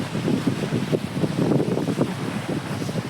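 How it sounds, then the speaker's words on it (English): Steady gusting wind at the lakeshore cliffs of Pictured Rocks National Lakeshore, Upper Michigan, buffets the microphone with a continuous low roar and rumble, with no voices. "Very windy."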